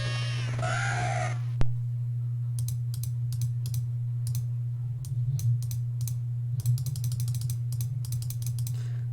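A crow enemy in the dungeon-crawler game Wizardry 7 gives a harsh caw near the start, followed by scattered clicking and ratcheting game effects over a steady low hum.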